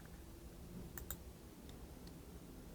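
Two sharp mouse clicks close together, then two fainter clicks, set against a low, steady room hum with no one talking.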